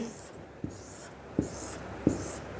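Marker strokes on a board while drawing a simple desktop computer diagram of monitor, keyboard, mouse and CPU in a classroom lesson, three short distinct taps or squeaks spaced apart over a faint hiss, with no talk.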